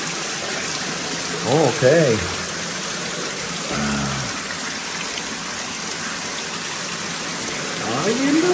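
Water from a dam gushes out under high pressure at a Pelton turbine intake, a loud steady broadband roar that fills the clip, while people talk over it and a small valve or handle clunks once.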